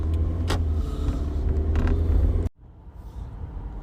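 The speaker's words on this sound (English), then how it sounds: "So I'm going to leave the background noise in here of driving." Steady low rumble of a car driving from inside the cabin, a few creaks and bumps, then the noise drops abruptly and resumes more quietly.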